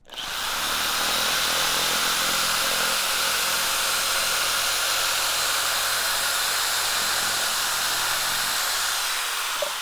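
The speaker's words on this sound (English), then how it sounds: "I'm gonna go ahead and cut this with the shears" Shears cut through a fiberglass reinforced plastic (FRP) board for a bathroom wall panel, giving a steady, loud, hissing whine that runs unbroken and close up for about ten seconds with no talking.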